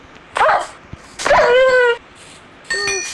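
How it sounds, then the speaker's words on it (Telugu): Three short yelping barks from a small dog in a video game, bright and close with pauses between them, the last one higher and thinner. "ఒక చిన్న డాగ్ ఉంది"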